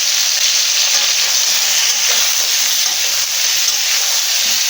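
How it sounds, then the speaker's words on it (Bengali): Green chillies dropped into hot oil with boiled Chandramukhi potatoes give a steady, loud, close sizzle of frying that fills the whole stretch without pause and without any talk. "চন্দ্রমুখী আলু সেদ্ধ হয়ে গেছে ভাজাতে দুটো কাঁচা লঙ্কা দিয়ে দিচ্ছি"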